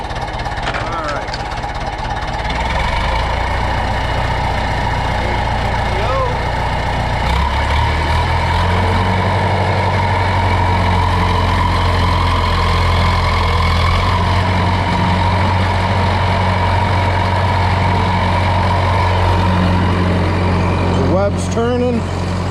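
A heavy diesel tractor engine runs steadily with a deep low rumble, its pitch shifting slightly partway through, while someone talks over it; a fertilizer spreader web is turning.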